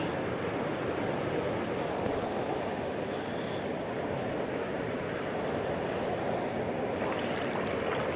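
Ocean surf breaking on a beach, a steady loud wash of rolling waves with wind buffeting the microphone throughout.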